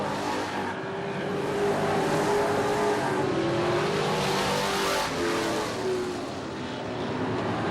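Limited late model race cars roar past on an oval speedway on opening night, a loud, continuous engine drone that swells and fades slightly as the field goes by, with no talk.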